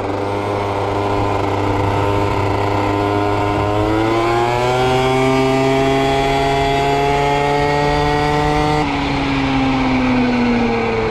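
An MBK Booster Next 50 moped fitted with a Polini race kit engine rides along, its buzzy two-stroke engine droning loud and close, climbing in pitch as it accelerates through the revs, then dropping sharply as the throttle eases off.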